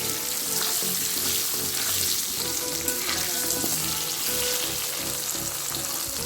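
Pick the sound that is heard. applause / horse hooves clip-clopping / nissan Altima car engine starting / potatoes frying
potatoes frying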